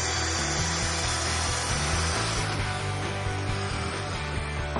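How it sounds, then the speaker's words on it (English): A Festool plunge-cut saw makes a bevel cut through wood, giving a steady, close whine of motor and blade that grinds evenly through the workpiece for several seconds. "The angle of the saw is adjusted. The cut is made again along the exact same line as before,"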